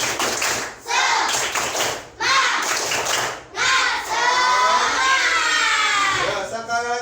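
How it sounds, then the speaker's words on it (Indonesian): Classroom of children doing a rhythmic group clapping chant, bursts of sharp synchronized claps and loud sung shouting in short phrases separated by brief pauses, close and lively. "Nah, kita tepuk semangat dulu."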